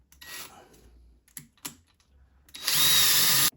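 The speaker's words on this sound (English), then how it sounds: "Now you want to drill it out, pilot hole ready for your" A power drill bores a pilot hole into a wall for a plug: short intermittent bursts, then a sustained loud, close whir for about a second before stopping.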